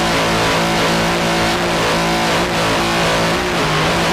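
An offshore racing powerboat engine heard on board, a loud, dense roar with throttle swells and brief dips, continuous and close throughout with no voices.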